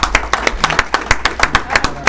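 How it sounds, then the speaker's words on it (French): An audience applauds a newly appointed auditor at an association meeting, giving a steady burst of close, crisp claps with a regular rhythm throughout, and no voices. "je voudrais qu'on applaudisse encore le nouveau commissaire au compte"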